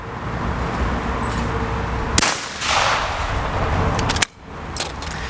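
A shotgun fired at a target during duck-shooting practice: one sharp, loud blast stands out partway through against steady outdoor background noise, and a second cracking impact follows shortly after.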